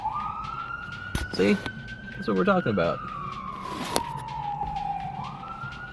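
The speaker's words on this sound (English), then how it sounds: "That's the sound of the police." A police car siren passes on a freeway, its wailing tone rising and falling over steady road rumble heard from inside a moving car, while a person briefly speaks over it.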